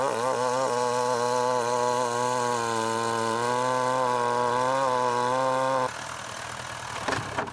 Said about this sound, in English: ran the blade of the chainsaw along the body of the log to split the log into two vertical pieces